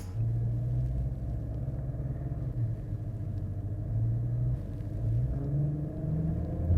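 Car power steering noise before a power steering dampener replacement: a steady low engine rumble with a droning hum that swells slightly at times, close and continuous, with no talk.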